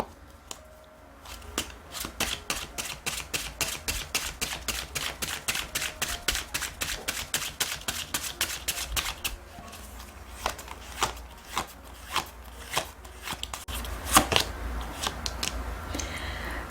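Tarot cards are shuffled in quick, crisp riffling bursts, then a series of sharp, distinct snaps and taps as cards are drawn and laid down one by one, close up, with no voice.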